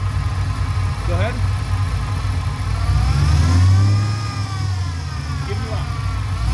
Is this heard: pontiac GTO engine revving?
yes